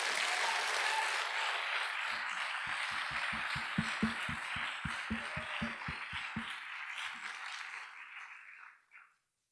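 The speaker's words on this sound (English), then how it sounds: "Let's give them a huge round of applause for their guts." A high school audience breaks into loud, sustained applause, a dense clatter of clapping with a rhythmic group beat in the middle that fades out toward the end.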